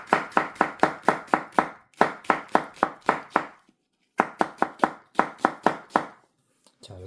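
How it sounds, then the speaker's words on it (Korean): An onion is sliced with a knife on a cutting board for a spicy Korean pork stir-fry, with quick, even chopping taps in steady bursts and brief pauses between runs, close and crisp. "양파만 한번 썰어 볼게요"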